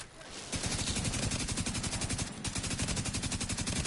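Sustained automatic gunfire in The Division 2: a long, loud, close burst of rapid, evenly spaced shots that rattles on without pause for several seconds.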